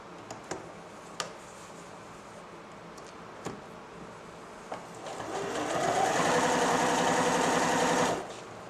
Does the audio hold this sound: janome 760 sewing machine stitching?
yes